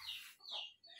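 A chicken clucking outdoors, a few short rising clucks within a second, faint and somewhat distant with no talk over them.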